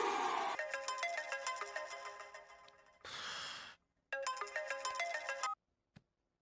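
A phone ringtone plays a repeating melodic tone in two bursts on a dialed call, with a breathy sigh between them and a short click at the end.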